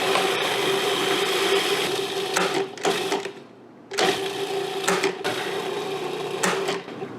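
A food processor grinds grated coconut with aromatics for Sri Lankan green beans, a steady loud motor whir broken by two short pauses and restarts, close by with no talk.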